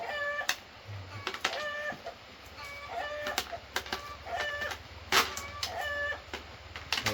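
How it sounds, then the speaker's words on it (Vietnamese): Chickens clucking and calling in a rural yard in Vietnam as corn kernels are shelled nearby, a steady run of short clucks and squawks with scattered clicks and knocks, moderately close, with no talk. "Mấy con gà nghe tiếng mình bóc hạt ngô này nó bắt đầu kêu rồi đấy"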